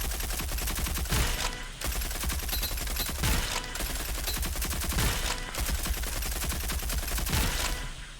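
Rapid, dense automatic gunfire in a first-person shooter video game, loud and continuous in long bursts with brief pauses between them and no voices over it.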